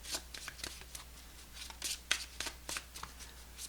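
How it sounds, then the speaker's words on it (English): Tarot cards are shuffled by hand for a reading: quick, papery riffles and soft slaps repeat in a close, quiet run with no talking. "let's pull some advice and guidance and outcome cards for you, Libras"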